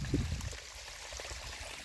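Water from a mountain spring near a hut trickles and pours steadily, a soft continuous stream heard close and alone.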